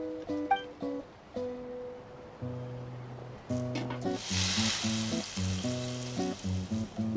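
Food sizzling in a pan during meal cooking in Genshin Impact, a bright hissing fry that swells in partway through under light melodic game music.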